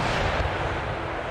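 Rockets launching in an Empire Total War battle, a dense, loud roaring rush of fire with low booming rumble filling the whole moment, no voices.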